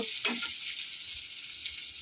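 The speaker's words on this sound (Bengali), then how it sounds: "এখানে দেখো পটল আলু তরকারি বানাচ্ছি, ভাজা হয়ে আসলো।" Pointed gourd (potol) and halved round potato pieces, fried together with salt and turmeric for a potol aloo curry, sizzle steadily in hot oil, a close, continuous frying hiss with a brief stir near the start and no talking.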